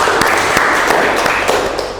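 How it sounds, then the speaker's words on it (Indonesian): Audience applause at an Indonesian talk on parenting, a dense steady wash of many hands clapping that fills the whole moment at close range, with a few sharper individual claps standing out. "beri tepuk tangan buat orang tuanya Mbak Fahira"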